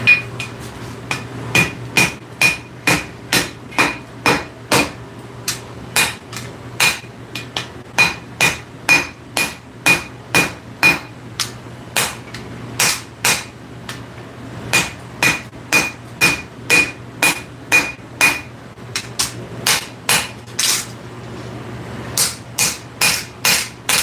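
A hammer forges a hot steel blade on an anvil, loud close ringing strikes in steady rhythmic bursts, some groups faster than others, with short pauses between runs.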